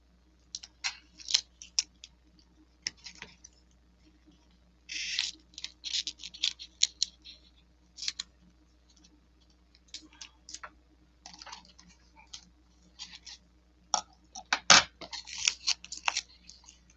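Repeated snips of scissors cutting, crisp close bursts in irregular runs with short pauses between, no talking.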